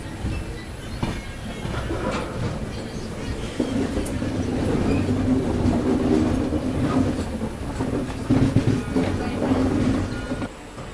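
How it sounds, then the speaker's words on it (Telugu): The Tamil Nadu Express, running from Delhi to MGR Chennai Central, approaches with a steady low rumble and rattling wheels. Faint clicks and a few brief squeals come through over about eleven seconds, heard from a station platform. "ట్రైన్ వచ్చే శబ్దం"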